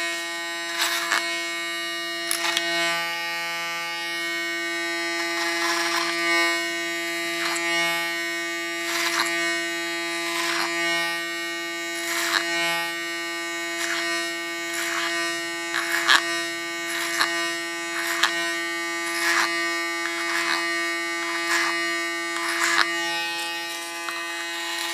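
An electric hair clipper set to its shortest blade position cuts a woman's hair into an ultra short style, a steady close motor buzz with rhythmic dips and crackles as the blade passes through hair.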